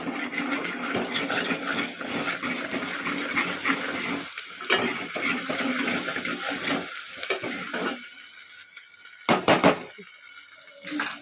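Ginger paste frying in a pan, a steady hiss and crackle that carries for several seconds, then quiets with a few stirring scrapes and clatters.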